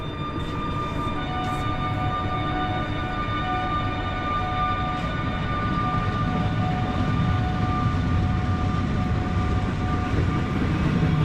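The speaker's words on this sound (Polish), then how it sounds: "jeszcze w międzyczasie wjedzie pociąg ze stacji Łuków" An EN57AL electric train rolls steadily toward the station from Łuków, a continuous loud rumble with faint tonal whine and no pauses throughout.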